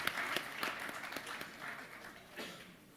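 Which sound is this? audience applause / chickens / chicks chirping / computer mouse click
audience applause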